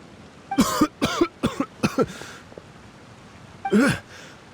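Repeated coughing from a character in the Genshin Impact video game after water went down the wrong pipe: a quick run of five sharp, close coughs, a short pause, then one more harsh cough, with no talk over it.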